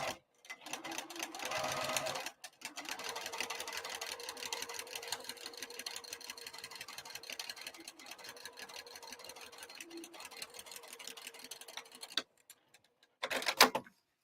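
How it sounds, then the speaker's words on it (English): A sewing machine stitching a pocket down onto foam at a quarter-inch seam, running in a steady rapid whir for several seconds, pausing briefly, then resuming before stopping. "I'm going to sew it to the foam."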